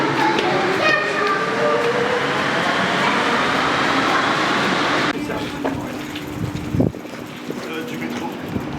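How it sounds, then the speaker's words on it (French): A metro train rumbles and screeches by, a loud broadband roar with whining tones that cuts off sharply midway, leaving quieter rattling and clunks, with voices talking underneath. "Du métro."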